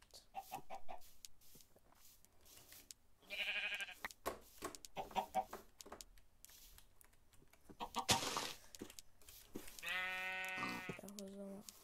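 Minecraft chickens cluck in short bursts, mixed with bleat-like animal calls, while a voice talks intermittently over the game sounds.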